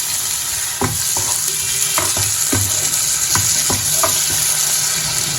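Blended tomato puree fries and sizzles in a pan for egg curry, with a constant hiss broken by repeated scraping strokes of a spoon stirring, close and alone.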